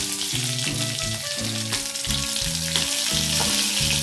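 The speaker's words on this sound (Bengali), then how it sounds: "জিরেটা দিয়ে দিলাম। আর এই যে একটা কাঁচা লঙ্কা আমি চিড় দিয়ে নিয়েছি, এটা এর মধ্যে দিয়ে দিলাম।" Cumin seeds and a slit green chili sizzle and fry steadily in hot oil, a close, continuous crackle with a faint musical tone running underneath.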